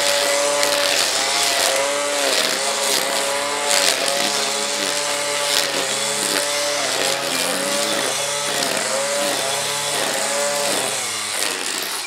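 A Ryobi 18V cordless line trimmer with a 330 mm cutting path whirs loudly and steadily through grass, its motor pitch wavering as the line bites, close and continuous.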